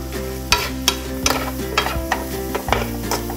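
Anchovies stir-fried in a pan with cooking oil and soy sauce, giving a steady close sizzle under repeated sharp scrapes and clacks of a utensil against the pan, with no talking.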